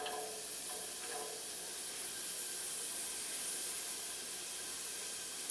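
Chopped sweet onion sautéing in olive oil and butter, a steady soft hiss and sizzle from the pan that stays even throughout, faint and close with no talking.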